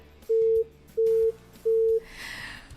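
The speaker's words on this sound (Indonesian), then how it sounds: "sepertinya hubungan telepon kita terputus ya" A telephone busy tone after a call drops during a broadcast phone interview, with three evenly spaced, loud, steady beeps separated by short silences, followed by a soft hiss of line noise.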